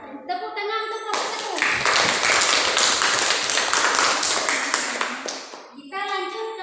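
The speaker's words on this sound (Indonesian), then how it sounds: "Tepuk tangan untuk kelompok" Classroom group clapping for a student discussion group during a teaching practice session, a dense burst of many hands lasting several seconds, bracketed by speech before and after.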